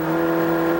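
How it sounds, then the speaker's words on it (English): A race car in a 1999 BF Goodrich Challenge Cup race with an engine problem, giving a steady, strained, droning engine note with a strong whining tone, loud and close, for under a second. "you can hear the engine of Miko David having a problem there"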